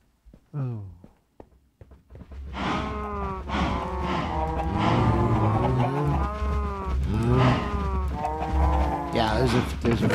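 Cows in the Minecraft video game give a series of drawn-out, overlapping moos that come close and loud, with a person talking over them.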